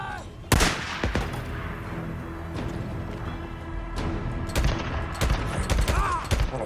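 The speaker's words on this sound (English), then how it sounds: "Open fire!" Gunfire in a firefight in the video game Days Gone: Remastered, with sharp loud shots and rapid bursts repeating over a dense rumbling background for several seconds.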